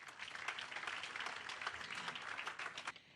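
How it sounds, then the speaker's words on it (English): A modest audience at a Honolulu memorial celebration applauds, a faint, distant patter of scattered clapping that stays fairly even before fading out at the end. "let's have a round of applause for our servers"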